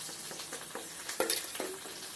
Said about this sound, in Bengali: ওই জন্য পাটার মধ্যেই একটু বেটে নিচ্ছি